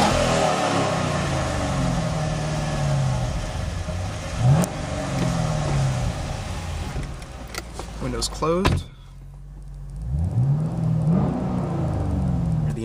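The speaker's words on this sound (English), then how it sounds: "The engine and the exhaust." A 2011 Chevrolet Camaro SS with manual transmission revs its engine and exhaust in repeated rising sweeps. Power windows whir, a door sound and brief clatter break in, a short spoken phrase is heard, and the car is heard up close.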